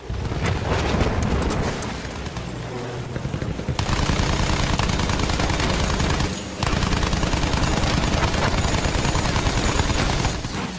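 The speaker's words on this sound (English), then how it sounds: "Coming in for another strafing run." Rapid, loud machine-gun bursts from an aircraft strafing run in Battlefield 1, dense and continuous with booming impacts, broken by a couple of brief pauses.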